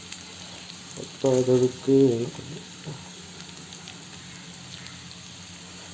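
Onion frying in hot oil makes a soft, continuous crackling sizzle that runs the whole time, with a brief spoken phrase rising over it near the start.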